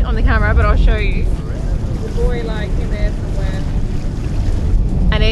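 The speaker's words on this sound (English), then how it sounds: "And it is really, really blowing. It is super windy today." Gusty wind of at least 20 knots blows across a boat at an anchorage, a loud rushing buffet on the microphone, with voices and high whistling tones over it.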